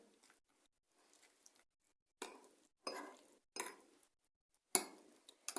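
A spoon scrapes and clinks in a bowl while raw grated carrot is stirred into a sauce for fish meatballs, coming in a few separate close strokes with quiet gaps between them.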